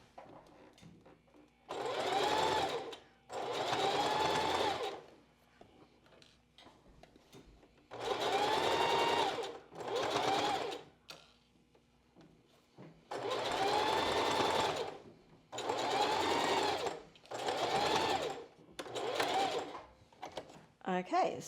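A sewing machine basting a bra cup runs in short bursts of steady whirring, about eight separate runs with quiet pauses between them, close and clear.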